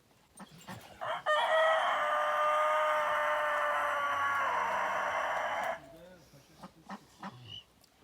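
A rooster crows loudly in one long, sustained call lasting several seconds, preceded and followed by brief softer noises and faint voices, with a Kangal dog nearby.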